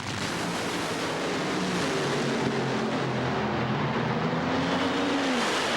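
Top fuel drag racers of Ormsby and Lori Johns launch side by side at the 1990 NHRA Sunoco Keystone Nationals, running near 290 mph. A loud, continuous, dense roar carries rising engine tones for several seconds with no voices.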